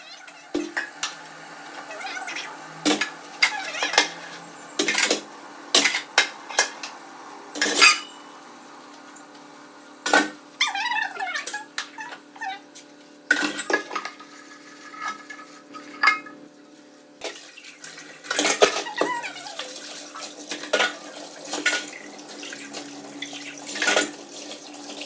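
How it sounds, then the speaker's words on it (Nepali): Dishes, pots and cutlery being scrubbed and rinsed under a running tap at a home sink: repeated clinks and clatters of utensils over steady splashing water, close and moderately loud, with brief speech at moments. "फाइनली मैले भाँडा माझेर सकेँ।"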